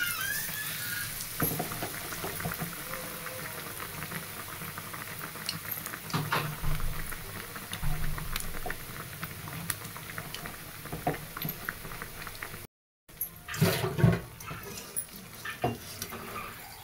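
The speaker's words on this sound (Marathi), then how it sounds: "हे पण असं सोडून घेते तेलामध्ये" Bread potato patties filled with stuffing slide into hot oil and fry with a steady crackling sizzle and scattered pops, broken by a brief silent gap and a louder burst of spattering near the end.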